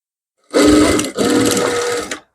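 A sewing machine stitching the lining into a finished dress, two close, loud runs of rapid mechanical whirring with a brief break between them.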